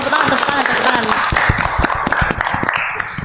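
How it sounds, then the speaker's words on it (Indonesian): Applause on a school robotics club podcast, a scattering of claps under and between voices talking, fairly close and uneven, thinning out toward the end. "Kasih tepuk tangan, kasih tepuk tangan."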